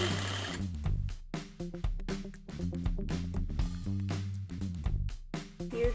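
A sewing machine runs in quick bursts stitching pant hems, its motor whirring and needle clattering in rapid even rhythm with short pauses and speed changes, close and alone with no talk.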